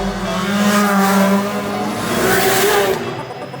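Honda Civic street racers roar along a Japanese mountain road after 2 a.m., loud and close, the engine note rising and surging before dropping away abruptly near the end.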